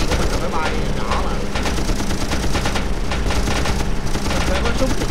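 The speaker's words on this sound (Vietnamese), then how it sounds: "bắn một súng máy nó khó" Machine guns rattle in rapid, continuous bursts during an air combat video game, loud and dense, with someone talking over the firing.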